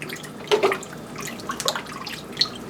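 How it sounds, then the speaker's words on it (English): Soaking liquid from potatoes poured into a pot of albondigas soup, a short watery splash with a few brief drips and trickles, close and moderately loud, with no talking. "I'm going to actually dump that liquid right there in that was soaking the potatoes."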